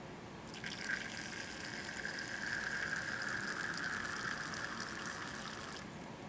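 Liquid drains steadily from a laboratory burette, a faint continuous trickle that runs unbroken for several seconds alone, with no talk over it.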